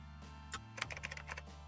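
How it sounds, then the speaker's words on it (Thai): Typewriter keys clack in a quick, uneven burst of several strikes, faint and close against a quiet background hum. "ผมจะเติมเสียงของเอฟเฟกต์นี้ลงไปหน่อยนะครับโดยการผมไปโหลดไอเสียงพิมพ์ดีดจาก YouTube"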